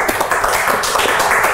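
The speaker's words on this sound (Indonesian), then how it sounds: "Tepuk tangan dulu." A small group claps in a quick, busy patter at close range in a podcast studio, with the brief burst filling the whole clip and no talking over it.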